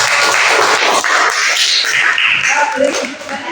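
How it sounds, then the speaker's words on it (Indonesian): Brisk clapping from a classroom group applauding a student named Nisa during a teaching session, continuous and close, mixed with lively voices talking over it. "Beri tepuk tangan itu Mbak Nisa"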